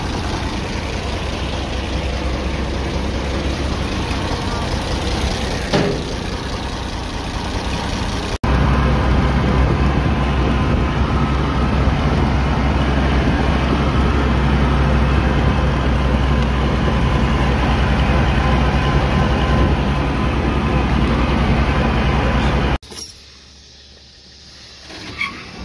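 Old tractor engine running steadily, loud and near, with a continuous low rumbling drone that shifts slightly partway through before cutting off abruptly near the end.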